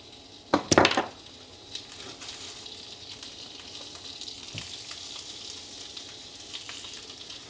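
Salmon fries in beef tallow in a pan. A sharp clatter and spatter bursts out near the start, then a soft, steady sizzle carries on with occasional faint ticks and pops.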